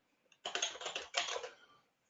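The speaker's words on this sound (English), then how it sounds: "typing and thinking at the same time" Typing on a computer keyboard: two close bursts of rapid key clicks, each lasting under a second with a brief pause between, in an otherwise quiet room.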